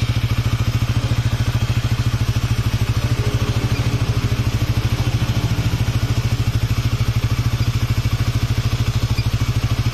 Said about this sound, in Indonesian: Nah, saat ini on, coba kipasnya menyala apa enggak.